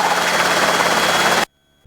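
A Robinson R22 helicopter engine and rotor drone loudly and steadily from inside the cabin during a training hover, then the sound cuts out abruptly.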